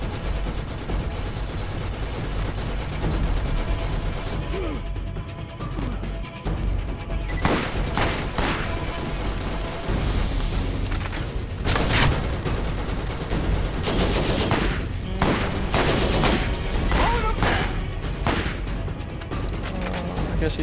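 Gunfire in the video game Borderlands, rapid bursts of shots and automatic fire over a constant noisy battle background, with louder clustered volleys and occasional booms, sometimes under a speaking voice.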